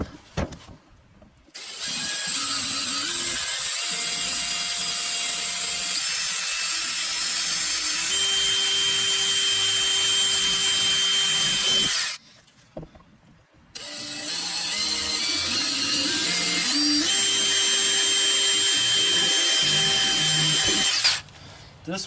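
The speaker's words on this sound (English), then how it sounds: "you got this pattern right there to drill holes" Power drill boring 1/8 inch holes in a pattern while installing rock lights on a 2nd gen Cummins truck; two long, steady, loud whining runs separated by a short pause, with the motor pitch dipping partway through.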